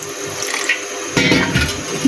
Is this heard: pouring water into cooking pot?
yes